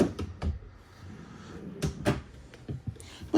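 Easy-latch cabinet doors inside a 2021 Riverstone Legacy 37FLTH luxury toy hauler RV, opened and shut several times, giving a series of soft knocks and clicks spread unevenly over a few seconds.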